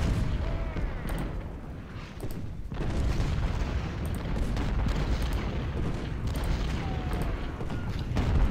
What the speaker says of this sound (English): Let the shelling of the fort commence in earnest.